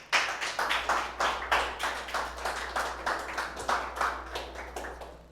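A church congregation claps in rhythmic unison, a steady beat of repeated hand claps at moderate volume with no talking over it.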